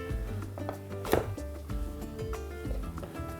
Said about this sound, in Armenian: Կտրատում ենք մանր խորանարդիկների։